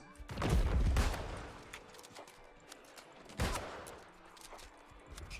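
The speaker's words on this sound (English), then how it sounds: "shooting him with all I got" Musket fire in the MMO New World, during an Amrine Expedition dungeon fight, comes as a loud booming blast followed by a second lighter report and faint clatter.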